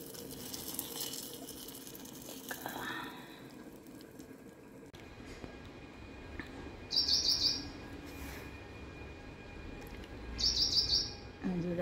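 Small birds chirp in a tree outside a home on a morning, in two brief, distant bursts of rapid high tweets against a low background hum.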